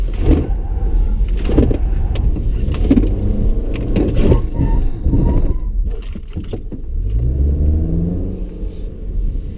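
A Toyota Camry XSE driving at higher speed on a wet road, heard from inside as a steady, loud low rumble of engine and tyres with a faint hiss, with no talking.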